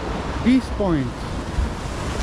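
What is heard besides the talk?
ocean waves on a calm sea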